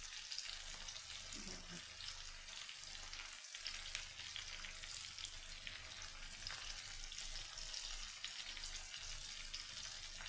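Potato chips frying in a pan, giving a soft, continuous sizzle and crackle at low volume with a few faint clinks, steady throughout and with no voices.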